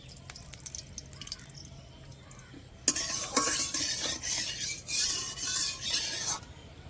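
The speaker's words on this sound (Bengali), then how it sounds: "কড়াই বসিয়ে দিয়েছি, কড়াই ভালো গরম হয়ে গেছে। এবার দিয়ে দেব তেল।" Oil poured into a hot wok for a Bengali katla fish curry, a loud broad hiss and crackle that bursts in suddenly midway and keeps sizzling steadily, with faint clinks of utensils before it.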